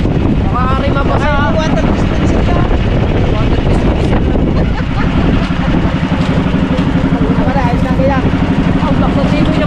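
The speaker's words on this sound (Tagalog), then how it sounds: "napakalakas ng simoy ng hangin dito sa area na to" Strong wind buffets the microphone in a constant loud roar, with a person talking over the gusts throughout.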